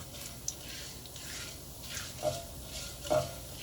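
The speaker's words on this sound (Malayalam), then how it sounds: "കടുകെല്ലാം പൊട്ടിക്കഴിയുമ്പോൾ ഇതിലേക്ക് നമ്മൾ എടുത്തു വച്ചിരിക്കുന്ന ഉഴുന്നുപരിപ്പിട്ട് വറുത്തെടുക്കുക" Urad dal fries in hot oil after mustard seeds have popped, a soft, steady sizzle with faint stirring scrapes and a few light clinks against the pan.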